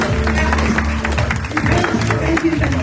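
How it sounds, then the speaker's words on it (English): An audience applauds after a dance performance, steady clapping running throughout with a voice talking over it. "Keep clapping, please."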